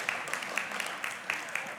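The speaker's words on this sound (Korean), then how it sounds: "크게 한번 격려의 축하의 박수 한번 해주십시오." A church congregation at a Sunday worship service claps in encouragement. Sharp claps fall in a loose regular beat over a soft wash of clapping, at moderate distance.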